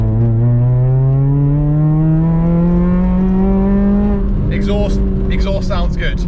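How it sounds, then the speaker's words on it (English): A modified 200bhp Ford Fusion ST's exhaust drones steadily and rises in pitch as the engine revs up, then changes note, recorded from inside while driving. "The first thing I want to test is the exhaust note."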